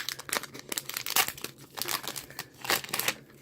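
A Panini Classics football card pack wrapper is torn open and crinkled close to the microphone, giving a rapid series of sharp crackling, crumpling bursts across a few seconds.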